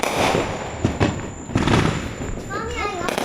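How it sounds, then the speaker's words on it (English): Fourth of July fireworks bursting in a backyard family celebration: repeated booming pops and crackles at irregular intervals, some near and loud, with a whistling rocket near the end, while someone talks over the noise. "Those fireworks are very nice."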